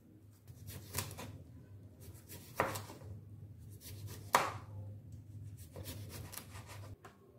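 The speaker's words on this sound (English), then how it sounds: "Next is the cucumber. Try to cut it into tiny shapes." A kitchen knife slicing a cucumber into tiny pieces on a cutting board for a Nigerian vegetable salad, giving soft, close chopping taps with a few sharper knocks over a low steady background hum.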